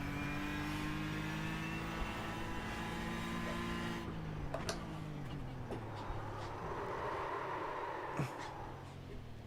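A race car engine in the sim racing game iRacing roars with a throaty, steady drone, then drops in pitch partway through as it slows, with sharp clicks and road noise afterward.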